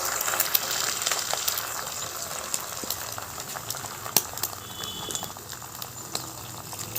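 An egg fries in a little oil in a wok, giving a continuous soft sizzle dotted with sharp crackles and pops, close and moderately quiet.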